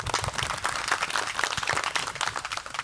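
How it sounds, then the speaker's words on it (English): A launch-event audience applauds together, a dense, steady wash of clapping that holds through the whole stretch with a little faint talk underneath. "give a round of applause to all of you for just taking the time to come out."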